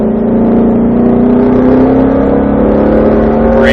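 A Shelby GT500 engine pulls under throttle with a loud, close, steady drone whose pitch climbs gradually, heard from inside the car with no talking.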